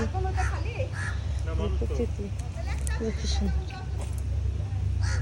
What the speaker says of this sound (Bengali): ওই যে কাক পাখি